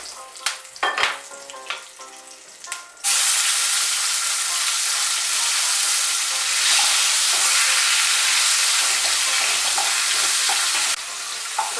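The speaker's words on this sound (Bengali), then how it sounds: "টমেটোটা দেওয়ার পর একটু নাড়াচাড়া করে নেব" Chopped tomato hits hot oil in a pan for a Bengali rui posto fish dish, opening with a few clattering stirs before a loud, steady frying sizzle takes over and holds, close to the microphone.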